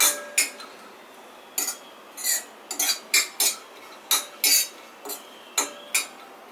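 Cashews dry roast in a kadhai, with irregular bursts of light clinking and rattling as a metal spoon stirs and taps the pan, the clinks short and separated by quiet gaps.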